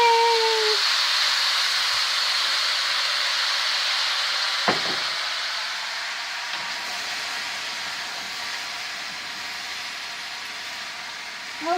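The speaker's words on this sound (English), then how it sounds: "And hear it sizzle." Continuous hissing sizzle of gluten-free ham fried rice frying in a pan, steady and close, with a few faint clinks partway through.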